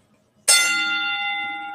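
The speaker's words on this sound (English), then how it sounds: "he is just giving the bell to Chiefs." A single bell is struck once, giving a bright loud clang that rings on with a sustained metallic hum and no talk over it.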